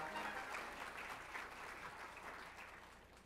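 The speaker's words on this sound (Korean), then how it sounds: "박수 부탁드립니다." An audience at a Korea-US alliance conference and gala dinner applauds throughout, a sustained, even wash of clapping at low volume with no one speaking.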